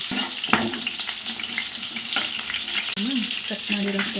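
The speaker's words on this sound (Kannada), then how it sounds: "ಮೆಣಸಿನ್ಕಾಯಿ, ಕರಿಬೇವು ಎರಡನ್ನು ಹಾಕಿದ್ದೀನಿ. ಅದೊಂಚೂರು ಎಣ್ಣೆಯಲ್ಲಿ ಫ್ರೈ ಆಗಬೇಕು." Green chillies and curry leaves fry in hot oil, giving a steady close sizzle broken by a few stirring scrapes and clinks.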